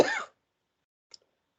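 A single short cough or throat clear from a lecturer in a class, close and brief, followed by near silence and a faint small click.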